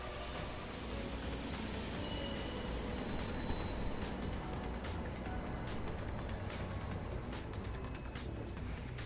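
Train in the video game FFXIV Endwalker rolling along with a steady, loud rumble and faint wheel squeal throughout, alone without talk.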